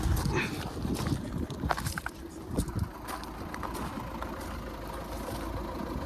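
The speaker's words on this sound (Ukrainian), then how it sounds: "Моторчик работает идеально." A Skoda Octavia engine idles outdoors, a low, steady rumble that runs throughout with a few faint clicks and knocks scattered on top.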